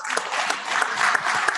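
An audience at a 10th anniversary gathering of the Chartered Institute of Arbitrators Philippines chapter gives a sustained round of applause, a thick, even wash of clapping from many hands throughout.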